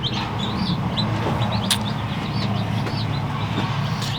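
Baby chicks peep and cheep in a steady chorus of high, thin calls, close by and continuous, with a low background hum and no talking.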